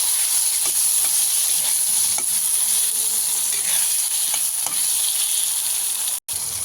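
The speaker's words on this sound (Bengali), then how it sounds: "তেলের মধ্যে একটা শুকনো লঙ্কা ফোড়ন দেব, দিয়ে আমি বেগুনগুলো ভেজে নেব।" Eggplant pieces sizzle and crackle in hot oil with a dried red chili tempering, a steady close frying hiss throughout with a few faint stirring taps and a brief dropout near the end.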